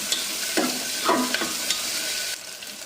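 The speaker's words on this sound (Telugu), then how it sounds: "ఇప్పుడు ఒక 5 to 6 పచ్చిమిరపకాయలు వేసాను. అది కొంచెం ఫ్రై అవ్వాలి." Five or six green chillies sizzle and crackle in a hot pan while being stirred, a steady close frying hiss with a few brief scraping strokes and no voices.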